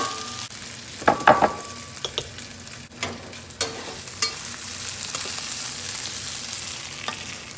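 Chicken and baby bella mushrooms fry in a wok with a steady close sizzle, broken by a few sharper scraping stirs and clatters.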